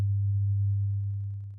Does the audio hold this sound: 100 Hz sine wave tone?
yes